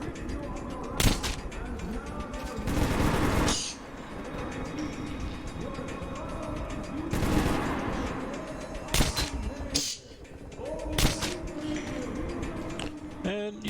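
Metro 2 game combat with carbine fire: sharp, loud bursts of shots breaking through a dense, rumbling background at irregular intervals, with quieter stretches between volleys.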